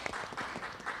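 Faint, distant audience applause at a gamification talk session, a short burst of soft scattered clapping from a seated crowd, low in level.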